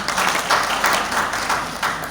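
Applause from a gathered audience at an Indonesian organization's inauguration ceremony, a loud, dense wash of clapping that pulses slightly throughout the short stretch.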